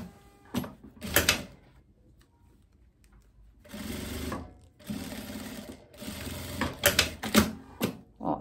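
Close, moderately loud bursts of a sewing machine stitching a wide-leg trouser waistband seam, several short runs of rapid whirring separated by pauses and a few clacks as the fabric is handled, with no talking.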